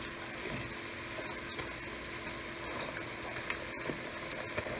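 Sliced potato chips frying in a pot of hot oil give off a steady, close sizzle with faint crackles and a few light pops, no voices over it.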